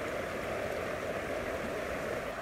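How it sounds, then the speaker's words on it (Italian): Flowing water in a stream outdoors on a cold morning, a soft, steady, even rush of moderate level with no voices. "a godermi il rumore dell'acqua"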